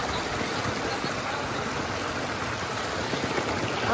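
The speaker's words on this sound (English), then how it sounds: "Oh, it hasn't stopped raining." Steady rain falls outdoors on a mountain trail near a waterfall, a dense, even hiss that stays loud and close throughout, with no talk.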